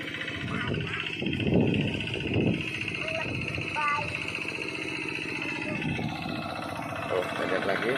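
A modified paddy-field tractor chugs with a steady low engine rumble, loud and close, while people talk over it.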